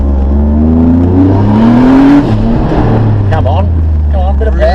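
A 600-horsepower Hyundai Genesis Coupe engine revs hard under acceleration, loud and close with a rising whine through the gears, while excited voices shout over it inside the car.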